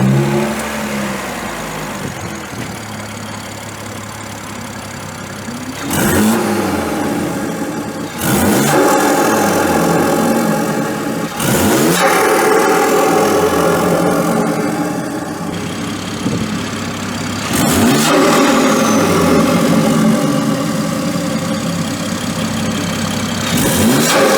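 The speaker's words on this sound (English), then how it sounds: "So I'll fire it up and I'll give it a couple revs." BMW G30 540i with a CTS charge pipe and FTP turbo inlet starting up, then several sharp revs that climb and fall back to idle, with loud turbo intake whoosh and close engine roar.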